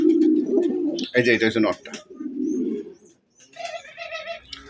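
A pair of Bagha Grubas pigeons coo in low, throaty rolling bursts, close by, interleaved with someone talking.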